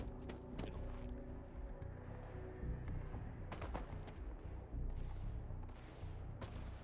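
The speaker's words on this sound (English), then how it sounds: "I was like, someone's shooting over here." Gunfire from a firing range in Starfield, a dense mix of rapid shots and heavier bursts rattling at a moderate distance, with sharp cracks standing out around the middle and near the end.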